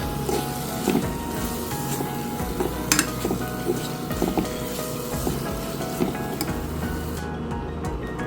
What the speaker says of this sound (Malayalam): ഇനി ഇതിലേക്ക് നമ്മൾ നമ്മൾ വേവിച്ച് വെച്ചിരിക്കുന്ന പോർക്ക് ഇതിലേക്ക് ഇട്ട് കൊടുക്കാം